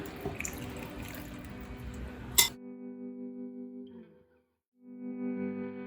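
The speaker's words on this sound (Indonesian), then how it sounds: "Dan kita siramkan air ini di atasnya." Water is poured over stuffed grape leaves packed in a pot, a rushing splash for a couple of seconds that stops abruptly, followed by faint hum and quiet handling noises.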